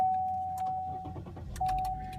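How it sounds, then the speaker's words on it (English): A 2014 Chevy Sonic LT is started with a key: a sustained warning chime sounds while the engine cranks briefly and catches into a low idle, then the chime sounds again, all close inside the cabin. "let me start the car up."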